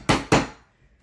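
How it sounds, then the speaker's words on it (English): An awl struck twice to punch divots into a wooden board for string art, two sharp close knocks about a quarter second apart with a short ringing decay. "You just hold the awl over the dots, give it a good hit, and it'll create a good divot."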